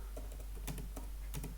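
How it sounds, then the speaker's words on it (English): Computer keyboard typing a terminal command, a quick burst of light, close key clicks in an uneven rhythm over a faint steady background hum. "Now type here sudo"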